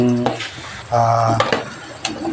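Vegetables with onion and garlic stirred in a pan for dinengdeng, with brief sizzling and scraping clatter of a utensil against the pan, close and loud, alongside a few short tonal sounds.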